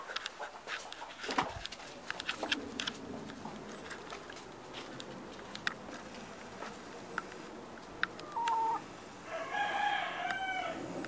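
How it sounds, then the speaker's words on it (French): Alsace hens cluck and a rooster crows amid farmyard noise, with sharp clicks and a dog faintly in the mix; calls come in scattered bursts. "Donc là vous avez une poule d'Alsace en gros plan"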